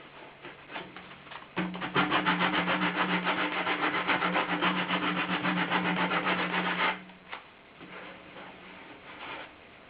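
A hand file rasps at the corners of a plastic water station, rounding them off with a rapid, steady scraping stroke that runs close and continuous for about five seconds, framed by lighter scratching before and after.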